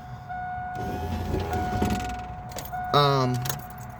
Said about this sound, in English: I'm gonna roll this down.